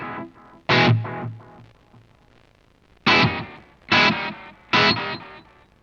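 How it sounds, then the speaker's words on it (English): An electric guitar plays through a NUX Trident pedal set to bucket brigade delay, giving loud distorted strummed chords with trailing repeats: one chord, a pause, then three evenly spaced chords. "bucket brigade delay"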